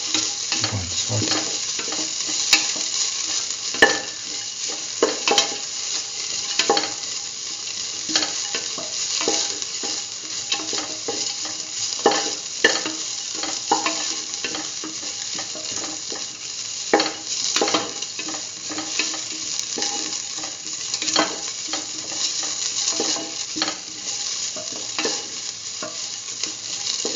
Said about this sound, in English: Thoroughly saute.